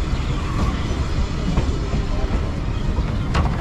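Kolkata circular railway train running between Tala and Bagbazar stations, a steady broadband rumble of the moving carriages with faint wheel clatter throughout, heard from on board with no talk.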